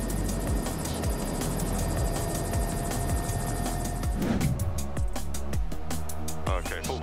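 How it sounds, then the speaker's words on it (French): An S-64 Skycrane firefighting helicopter works over a forest in Canada, its rotor beating in a fast, steady pulse with a loud engine drone, and the sound shifts partway through as a voice talks over it. "hélicoptère de lutte contre les incendies S-64 Skycrane au travail au-dessus d'une forêt au Canada"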